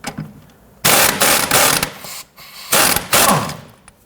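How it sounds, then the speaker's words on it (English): A 15mm socket ratchet loosens the lower sway bar end link nut on a 1992-1996 Toyota Camry, with two bursts of rapid clicking close up, each lasting about a second, separated by short pauses. "Using a 15mm socket, we're going to go ahead and loosen and remove the nut on the lower portion of our sway bar end link."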